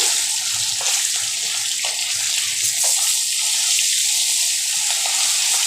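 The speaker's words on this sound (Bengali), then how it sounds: "যতক্ষণ মাছটা ভাজা হচ্ছে" Small puti fish fry in a pan, giving a loud, steady sizzling hiss that continues without a break and with no voices.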